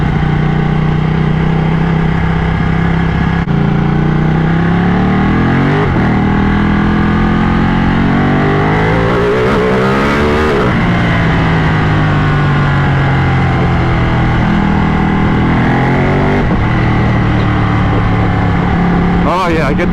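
A Ducati motorcycle rides on the interstate, its engine humming steadily with repeated rises and dips in pitch as it shifts and accelerates, mixed with constant rushing wind noise close to the rider.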